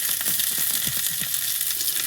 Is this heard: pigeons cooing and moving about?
no